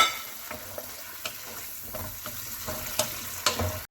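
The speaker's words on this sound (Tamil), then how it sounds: "இதுக்குள்ளே நாங்கள் இப்போ அன்னாசி பழத்தை போடுறோம். பைனாப்பிளை போட்டு நல்லா பிடிக்க போகிறோம்." Pineapple pieces frying with soy meat in a pan, a soft sizzle under repeated scraping and stirring strokes from a utensil, close by, ending abruptly.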